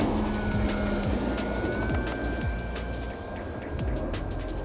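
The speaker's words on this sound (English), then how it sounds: "it can be flown very slowly with the flaps dropped." An E-flite V1200 RC airplane flies slowly overhead with its flaps dropped, a steady electric motor whine and buzzing drone at moderate distance, with a faint shifting pitch and no voices.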